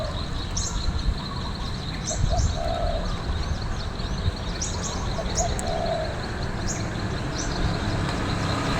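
A dove coos softly in short repeated phrases amid chirping birds, over a constant low rumble of distant traffic.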